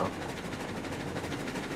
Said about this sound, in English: The caboose is really jumping around now.